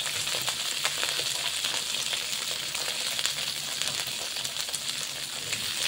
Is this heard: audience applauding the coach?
no